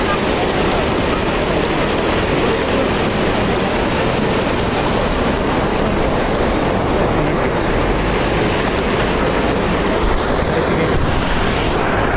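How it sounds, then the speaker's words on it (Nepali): A clear mountain stream rushes near Dupcheshwor Mahadev in Nuwakot, Nepal, a loud, constant roar of flowing water close to the microphone, with some wind buffeting throughout. "यति राम्रो स्वच्छ सफा पानी बगिरहेको छ"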